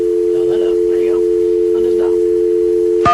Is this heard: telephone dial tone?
yes